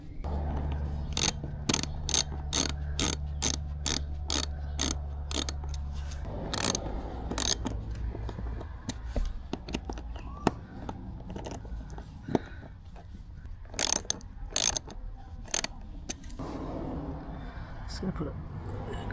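Rapid ratcheting clicks come from a tool tightening bolts on a KTM 690 motorcycle's auxiliary fuel tank, sounding as sharp bursts close by, with a low hum beneath and scattered mechanical knocks later.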